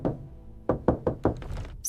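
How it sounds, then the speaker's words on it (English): Several firm knocks on a door, a quick run of about five hollow thuds after a softer first thump, close and clear with no voices. "Suddenly, there was a knock at the door."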